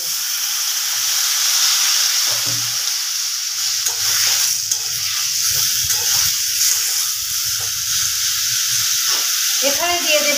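Pumpkin frying with Kashmiri red chilli powder as a little water goes in, producing a loud, constant steamy hiss and sizzle throughout, with a soft low voice murmuring underneath and a brief scrape near the end.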